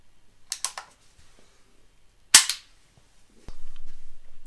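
Sharp, snappy clicks from a dry-fire training system: a cluster of quick clicks, then one louder crisp shot-like snap a moment later, followed by a low steady hum.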